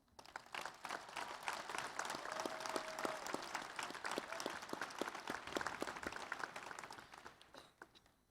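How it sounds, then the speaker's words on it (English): A large commencement audience applauds the faculty in a long, steady wave of dense clapping that swells and holds for several seconds, then gradually thins out near the end. "please join me in honoring our world-class faculty with your applause"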